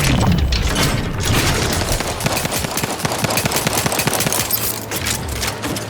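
Bursts of gunfire from a firefight with enemies in The Outer Worlds 2, loud, close rapid shots with booms and mechanical clatter mixed in and no talk.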